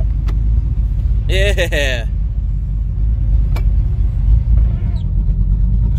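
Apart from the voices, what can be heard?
1989 Ford Fox Body Mustang engine running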